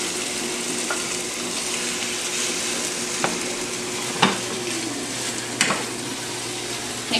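Steady frying sizzle with a broad hiss throughout, broken by a few sharp clatters and scrapes of stirring in the pan; no talking.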